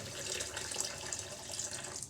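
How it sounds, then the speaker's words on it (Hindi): Water pours steadily into a blender jar with strawberries and black salt for fresh juice, a close, continuous splashing stream lasting a couple of seconds. "और हम इसमें डालेंगे पानी"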